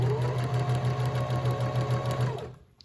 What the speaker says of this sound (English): Now we're gonna sew a straight line again.